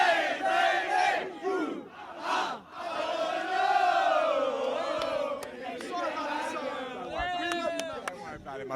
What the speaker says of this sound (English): This chant was constant.